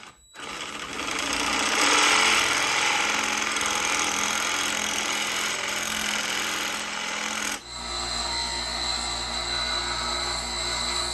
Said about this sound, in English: I almost forgot to drill the hole for the for the body mount.